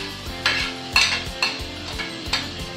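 Garlic being stirred in a pan for chao fan, a regular run of metallic scrapes and clinks about every half second over a soft sizzle, close and fairly loud with no talking.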